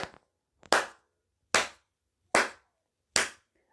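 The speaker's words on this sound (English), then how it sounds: "As Gato just appears and he starts clapping like ha ha ha ha." Five sharp, separate hand claps ring out one by one at an even, slow rhythm, with brief silence between each crisp smack.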